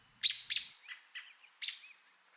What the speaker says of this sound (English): or the robin might make a tweet and tut call like this.